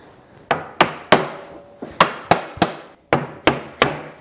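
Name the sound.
mallet tapping wooden boards into bed frame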